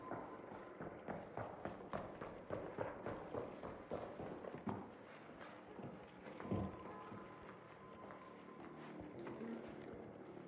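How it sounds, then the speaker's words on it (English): Footsteps in the video game ARC Raiders, a quick rhythmic run of steps over the first half that then gives way to softer in-game ambience and a few scattered knocks, with no talking. "Footsteps definitely sound louder to me"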